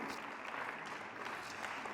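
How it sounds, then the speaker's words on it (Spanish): Congregation at a Spanish-language church service applauding, a steady dense clapping that fills the short moment without a break and no voice over it. "denle un aplauso a la palabra en esta tarde, por favor"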